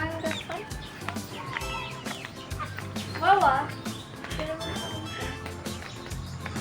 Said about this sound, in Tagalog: Yan yung ating Rhode Island Red. Ito naman ating mga sisiw.